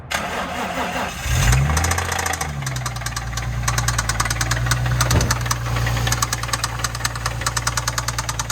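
A car engine idles close by with a slight lifter tick, a steady low rumble overlaid with rapid, regular ticking throughout, after a brief revving swell near the start.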